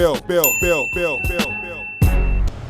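A bright bell ding rings out over a run of quick chirping tones, then a low whooshing thump closes it.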